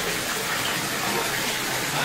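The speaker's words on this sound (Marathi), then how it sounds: "तुळजाभवानी मंदिर परिसरातला हा झरा पुन्हा एकदा प्रवाहित झालेला आहे" The Gaumukh spring at the Tuljabhavani temple in Tuljapur, flowing again after 35 years: a continuous, close rush of gushing water, steady and loud, with voices faintly underneath.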